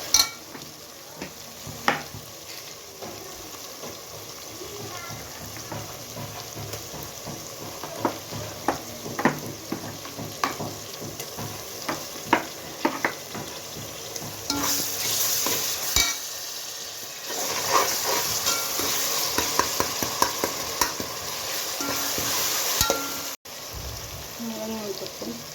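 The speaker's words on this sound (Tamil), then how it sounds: "தக்காளி ஓரளவுக்கு வதங்கிடுச்சு. அடுத்து இஞ்சி பூண்டு பேஸ்ட் எடுத்து போடுவோம்." Tomatoes with ginger garlic paste sautéing in a pan, a continuous sizzle and frying hiss broken by irregular scrapes and stirs of a utensil, with a louder crackling surge around the middle before it settles again.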